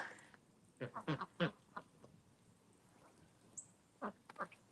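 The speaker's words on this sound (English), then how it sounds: "Those are my rescue ducks." Rescue ducks quack in short bursts, a cluster of several calls followed by scattered single quacks, fairly faint and outdoors after an ice storm, with a little background noise between them.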